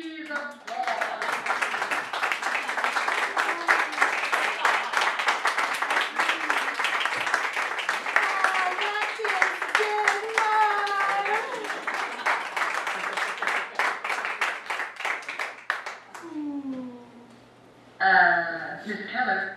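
Sustained applause from a vaudeville theater audience, dense clapping running for most of the stretch, with voices mixed in and a brief quieter gap before a final burst.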